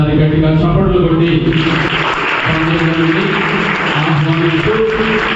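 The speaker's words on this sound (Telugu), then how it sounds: "ఈ సమయంలో అందరూ ఒకసారి గట్టిగా చప్పట్లు కొట్టి" Church congregation applauding at a temple dedication anniversary, steady dense clapping throughout with a voice speaking over it on a loudspeaker.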